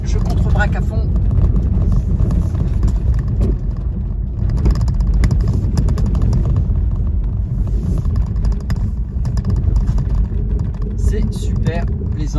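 A rear-wheel-drive Tesla on winter tires accelerating hard, a loud continuous low rumble of motor and road noise with tire roar that holds steady throughout, with a voice talking over it.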